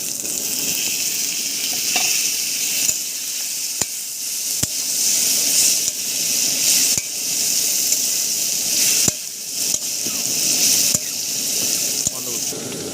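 Potatoes sizzle and fry in a pan with Kashmiri chili powder for Kashmiri aloo dum, a steady crackle broken by sharp clicks and scrapes of stirring, with a voice talking now and then.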